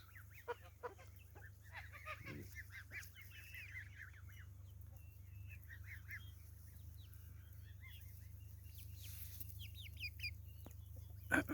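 Faint 40-day-old Plymouth Rock chicks peeping and geese clucking, scattered calls overlapping steadily over a low background hum, with an occasional louder honk-like call.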